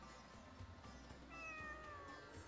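A cat meows in the JRPG Tales of the Abyss, a rising-and-falling call standing out against a steady backdrop of game music and ambience, with no talking.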